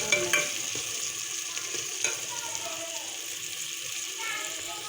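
Dal dry-roasts in a pan while being stirred, giving steady scraping and stirring with a soft sizzle and a few sharp clinks. Faint voices murmur in the background.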